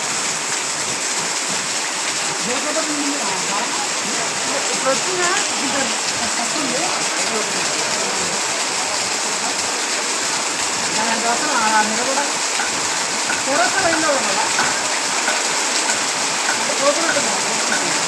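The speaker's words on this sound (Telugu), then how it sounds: "అత్యంత భారీ రైన్ నల్గొండ" Very heavy rain pours down and floodwater rushes through the streets of Nalgonda old town in a steady, loud splashing roar, with voices talking faintly underneath.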